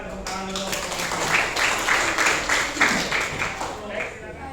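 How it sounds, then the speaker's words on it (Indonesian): Students in a classroom clap in quick, uneven bursts that are moderately loud and mixed with overlapping voices talking throughout. "Silakan tepuk tangan dulu."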